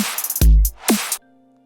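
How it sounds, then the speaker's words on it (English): A dubstep drum loop hits a heavy, saturated kick with a deep booming low end, followed by sharp snare cracks and a synthetic buzzing layer, then cuts off abruptly into a faint tail. "very heavy kick and snare, like this kick right here."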